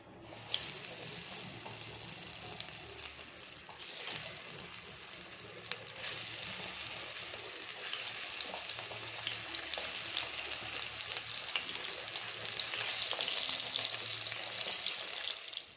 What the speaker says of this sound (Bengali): এখন ভেজে নেব বেগুন